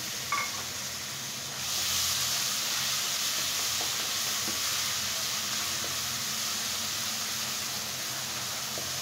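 A spice paste of turmeric and cumin hits a hot frying pan and sizzles, a steady bright hiss that jumps louder after a moment and then holds, with no voices over it.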